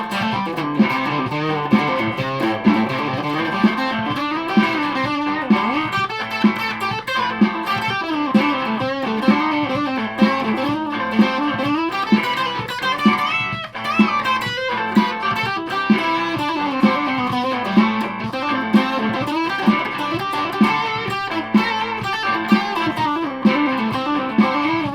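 Ibanez Blazer BL550 electric guitar from 1982 played through distortion, a continuous run of overdriven chords and notes with steady picked attacks, loud and alone with no talk.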